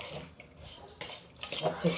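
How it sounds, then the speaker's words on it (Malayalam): A spoon scrapes and clinks quietly while scooping mango pickle into a bottle, with soft stirring scoops that grow a little louder toward the end. "ഇനി ഇതിനെ ഒരു കുപ്പിയിലോട്ട് കോരി വയ്ക്കണം."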